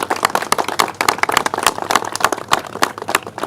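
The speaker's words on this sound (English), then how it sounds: "Let's give them a round of applause." Applause from an audience at a public event on Staten Island marking the second anniversary of Superstorm Sandy, a steady patter of many hands clapping close by, with no talk over it.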